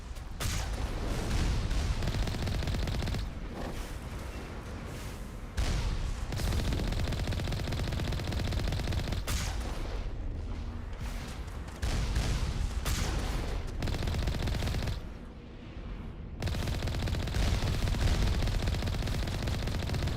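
Sustained gunfire in the sci-fi shooter game Mass Effect, dense automatic bursts and heavy fusillade filling the scene almost continuously, loud and close, with brief lulls before the shooting resumes.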